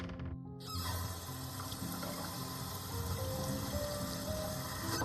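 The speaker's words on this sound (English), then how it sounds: "As the cold water splashes my face" Cold water splashing onto a face in a video game, a steady rushing wash that starts abruptly after a brief quiet moment and continues evenly and fairly close throughout, with no voices.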